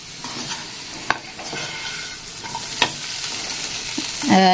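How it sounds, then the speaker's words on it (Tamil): Green peanuts roasting in a nonstick pan while being stirred with a spatula, a soft continuous sizzle broken by a few sharp scraping knocks and a louder clatter of stirring at the end. "வேர்க்கடலை வந்து நம்ம பச்சை வேர்க்கடலை போட்டதுனால கொஞ்சம் நேரம் வறுத்துக்கிறேன்."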